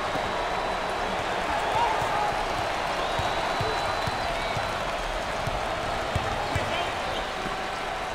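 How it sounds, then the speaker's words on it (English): Thunderous arena crowd at a Baylor at Duke college basketball game, a dense continuous roar of cheering that holds steady throughout, with scattered ball thumps and faint commentary voices underneath. "The crowd is thunderous."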